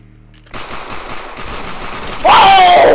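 A gun fired in the stealth video game Sneak Thief, a rapid burst of loud shots starting abruptly, followed by a rising then falling shout-like tone.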